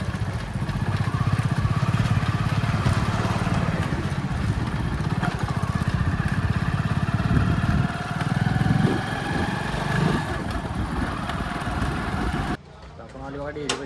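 A motorcycle engine runs steadily while riding to a dairy to deliver milk, a loud continuous drone with voices talking over it that cuts off abruptly near the end.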